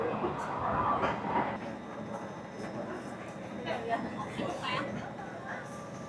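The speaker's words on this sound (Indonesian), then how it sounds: "Menikmati naik KRL." Inside a moving KRL commuter train near Bogor, Indonesia, a steady rumble of the carriage runs under nearby voices talking and chattering throughout.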